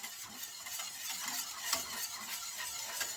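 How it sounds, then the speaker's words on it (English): A spoon stirs peanut butter cream pie pudding filling thickening in a pot over heat, giving a continuous soft scraping and swishing with faint sizzle, close and steady throughout. "We're just going to stir it and stir it and stir it until it thickens up to a pudding consistency"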